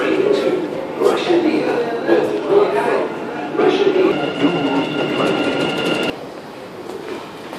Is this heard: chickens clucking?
no